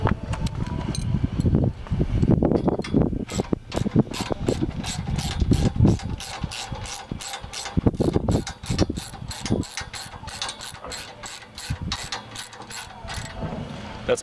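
Ratcheting wrench cinching bolts on a modular heavy-duty truck rack, a steady run of rapid clicks with short pauses between strokes, close up and alone.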